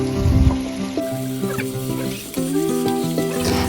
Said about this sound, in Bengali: সব কিছু দিয়ে ভালোভাবে কষাই লইম যাতে খুব সুন্দর গো রান্না হয়